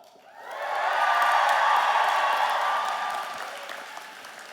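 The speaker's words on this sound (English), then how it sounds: "let's hear the biggest cheer of all" A large crowd of graduates at an Athabasca University convocation ceremony bursts into applause and cheering, swelling quickly to a loud, sustained roar with whoops, then slowly tapering off.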